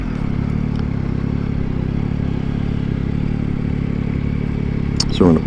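A Yamaha MT-09 SP naked motorcycle runs steadily at the end of a test ride at a show: a constant, loud low rumble with wind-like hiss, ending with a brief clattering sound.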